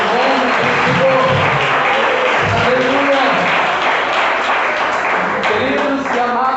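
A large church congregation in Maricá, Brazil applauds steadily, dense clapping filling the space, with voices faintly mixed in beneath.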